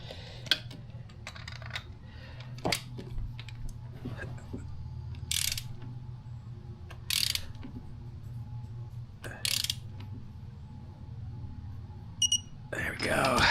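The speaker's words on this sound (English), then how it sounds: "torque wrench set to 28 foot-pounds." A torque wrench ratchets in quick clicking bursts while tightening spark plugs on a 2006 Jeep Wrangler, faint and close, over a low background hum with occasional clinks.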